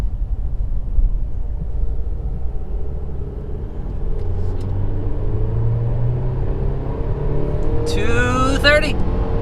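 A 2021 Mercedes-Benz GLC300 accelerates hard up an on-ramp, its engine rumble rising steadily in pitch through the gears, with steady road noise and a brief higher whine near the end.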